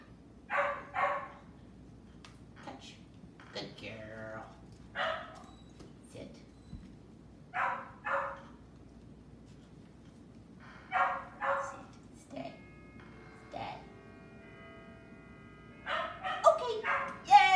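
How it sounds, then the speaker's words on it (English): Dogs eager to play bark in repeated pairs of short yaps at a moderate distance, spaced out in irregular rhythm across the stretch, with quiet room tone between bursts. "They're barking because they want to be playing."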